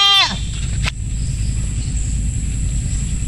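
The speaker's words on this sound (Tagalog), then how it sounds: "May maingay talaga tayong kambing" A goat lets out one loud, wavering bleat close by at the start, followed by steady outdoor background noise.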